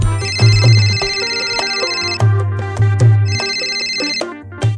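A mobile phone ringtone rings loud and close for an outgoing call, a repeating electronic melody with steady beats and no talk over it.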